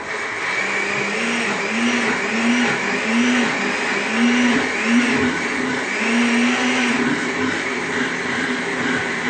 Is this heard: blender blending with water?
yes